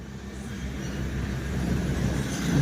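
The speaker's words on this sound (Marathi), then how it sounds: "दोन नंबरच्या प्लॅटफॉर्मवर गाडीनं प्रवेश केलेला आहे" The Kanyakumari–Pune Express rolls into platform two at Kurduwadi station, a low continuous rumble of wheels and carriages that slowly builds louder as the train draws near.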